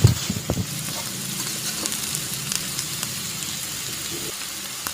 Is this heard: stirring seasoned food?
yes